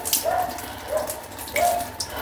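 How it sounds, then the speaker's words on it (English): Water from a bucket splashes and trickles in short bursts while hair removal cream is rinsed off skin, close by with no talking. "I have a bucket of water,"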